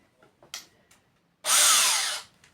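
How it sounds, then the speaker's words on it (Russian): A cordless power drill unscrewing self-tapping screws from a battery housing with a plexiglass part, one loud whirring burst of just under a second after a few faint taps and handling clicks, close and alone. "Значит, откручиваем саморезики."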